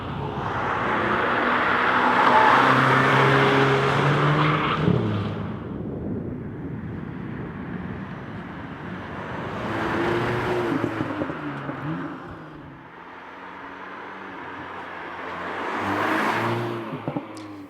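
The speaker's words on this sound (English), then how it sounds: "That's the engine." Volkswagen Polo GTI engine running and revving in loud surges, with a strong burst at the start, a quieter stretch, then further rises and falls in pitch, heard alone without talk.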